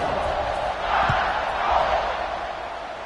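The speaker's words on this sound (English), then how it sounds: "this crowd now ready to get behind them" A football stadium crowd waits before a kickoff near the end of the first half, giving off a steady, broad roar that swells slightly midway through a short stretch.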